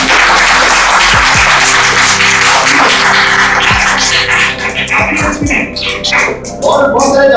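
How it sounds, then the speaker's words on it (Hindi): A church congregation claps in dense, sustained applause that stays loud and continuous, thinning slightly near the end before swelling again. "पहले ताली बजा लो।"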